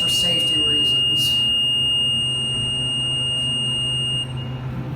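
A hydraulic elevator's warning beep sounds continuously for several seconds, steady, high, electronic, loud and close, with a few brief clicks near the start.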